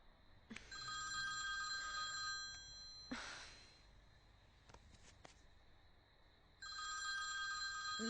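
A telephone rings in two electronic trilling bursts separated by a pause, clear and close, with a few clicks and a brief rustle in between.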